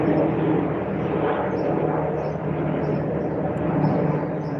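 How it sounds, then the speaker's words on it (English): Helicopter passing overhead outdoors, a steady broad engine and rotor rumble that stays fairly constant and moderately loud, with no talk over it. "I'm gonna let this helicopter go past."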